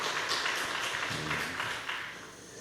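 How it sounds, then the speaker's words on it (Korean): A church congregation applauds for the Hosanna choir, with a steady patter of clapping that gradually fades over a couple of seconds. "우리 호산나를 위해서도 한번 박수 한번 해줘요"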